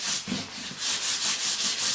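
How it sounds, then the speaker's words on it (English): Sandpaper rubs back and forth over cracked Jaguar car-seat leather in quick, regular strokes, a close, raspy scratching rhythm with no voices. "I'm just sort of sanding over these cracks here"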